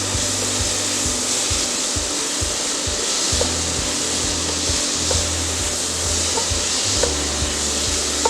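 Tomato chutney sautéing in a pan with salt and chilli powder, heard as steady rhythmic scraping and rubbing strokes of a spatula over a continuous soft sizzle, close and alone.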